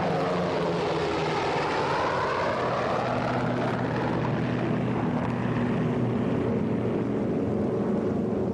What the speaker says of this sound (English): All American planes are ordered into the air.